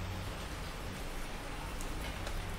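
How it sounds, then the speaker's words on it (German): Heavy rain in a video game pours down in a steady, dense hiss with no pauses, filling the whole scene. "Oh, es ist immer gewaltiger Regen heute."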